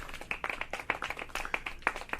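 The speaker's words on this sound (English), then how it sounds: "Clap it." Audience clapping at a tech talk, a brisk burst of individual hand claps close by, quick uneven rhythm for a couple of seconds.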